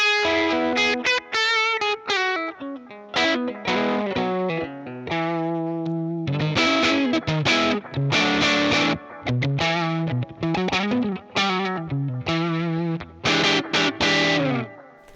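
Electric guitar played through a UAD Fender Tweed '55 5E3 Deluxe amp emulation with the tone control turned down, a darker, lightly driven sound in bursts of strummed chords and short riffs separated by brief pauses, alone.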